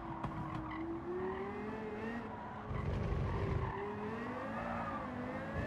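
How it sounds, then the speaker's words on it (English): A race car engine in Gran Turismo 7 hums at a sustained, gliding pitch as it climbs and falls through corners, with a burst of louder tire and engine noise partway through, heard at moderate distance with no talking. "God, this car sounds beautiful."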